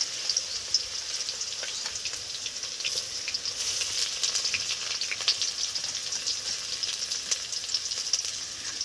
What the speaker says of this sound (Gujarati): જો તેલ ગરમ થઈ ગયું છે, ડુંગળી નાખી છે ને કકડવા દઈ